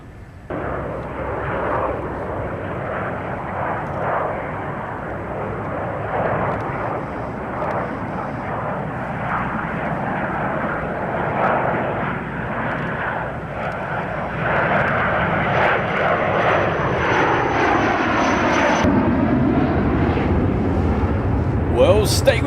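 A Handley Page Victor jet bomber roars past, a loud continuous engine rumble that swells toward the end with a sweeping pitch shift as it passes, with a voice talking underneath.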